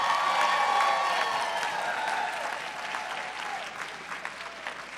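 A crowd at a charity fundraising event applauds after a $90,000 total is announced, dense clapping that starts full and gradually thins while a few cheers mix in; no speech.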